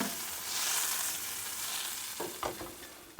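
Butter sizzles in a hot frying pan on the stove, a steady broadband hiss with a few soft scrapes near the end, close up.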